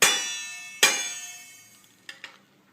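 Two ringing metallic strikes of a spoon on a metal plate ring out and fade slowly, followed by a couple of faint, lighter taps near the end; close by, with no talking.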